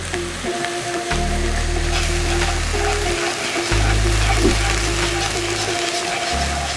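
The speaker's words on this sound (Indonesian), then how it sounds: "Nih kita tuangin aja minyak, lalu kita goreng pertama ini daun bawang sampai dia wangi." Chopped spring onions fry in hot oil with a constant crackling sizzle, while a low electric hum beneath it switches on and off in long stretches.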